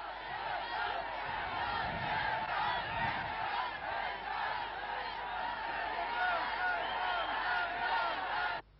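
A large outdoor crowd in Brittany greets the French president on steps, a dense, steady roar of many voices and cheers throughout, fairly distant and unbroken, then cutting off abruptly at the end.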